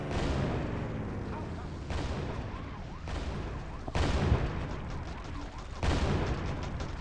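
Continuous bursts of rapid gunfire with deep booming blasts in the video game GTA, shifting abruptly in loudness every second or two, dense and noisy throughout.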